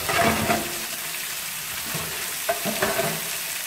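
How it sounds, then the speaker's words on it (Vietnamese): Oil sizzles steadily in a wok while minced meat and vegetables are stirred and tossed, with a few scraping clatters of a utensil against the wok. "rau vào xào. Thịt vào xào luôn"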